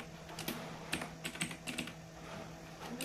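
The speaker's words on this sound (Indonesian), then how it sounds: "type the following command in the terminal window" Quick bursts of computer keyboard keystrokes, close and fairly quiet, as a command is typed into a terminal window in a Linux command-line lab, in irregular clusters with short pauses.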